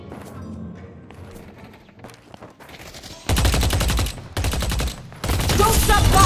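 Deadlock gunfire starts after a quieter stretch of faint game sounds and arrives as three loud, close bursts of rapid automatic fire separated by short gaps.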